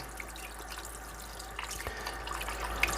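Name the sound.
running water rinsing quail carcass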